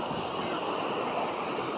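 Steady broadband rush of water at the Tham Phra waterfall in Thailand, continuous and fairly loud, with no voices.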